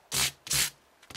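Two quick, close sanding strokes, a pause, then a third shorter scrape: gritty sandpaper rubbing against the metal frets of an Ernie Ball Music Man Silhouette guitar.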